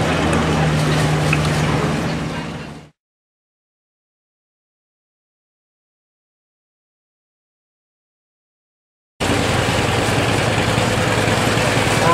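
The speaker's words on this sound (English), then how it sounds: "Here we have Durhamite Stephen Shank on the 54 John Deere tractor owned by his father Don" A 1954 John Deere tractor engine runs at a steady low idle in a Durham homecoming parade, with a long silent gap in the middle before the same rumble returns.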